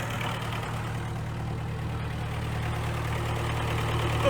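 A cheap second-hand engine-drive welder idles in a steady, unbroken low drone that holds at an even level throughout.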